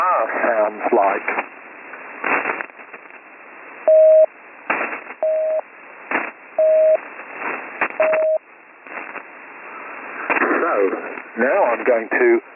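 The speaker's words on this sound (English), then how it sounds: "And this is what a dar sounds like." Longer Morse code dah tones, four steady sustained beeps evenly spaced, play through narrowband radio-style audio with someone speaking before and after.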